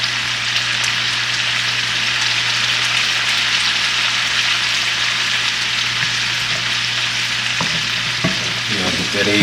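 Shrimp fried rice with egg fries in a pan, giving a loud, steady sizzle close up, with a few scraping stirs of a utensil near the end.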